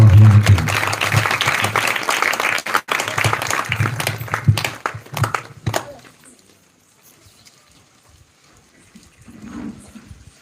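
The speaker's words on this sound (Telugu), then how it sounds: "చప్పట్లు కొడుతూ ప్రేమతో ఆహ్వానిద్దాం." A church congregation claps loudly to welcome a preacher to the pulpit, dense applause lasting about six seconds before fading into quiet room tone with faint movement.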